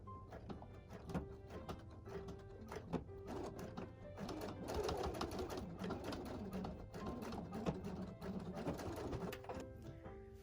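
A sewing machine stitching and backstitching fabric for an art pouch, its needle running in a fast continuous mechanical rattle for several seconds, close and steady with faint background noise.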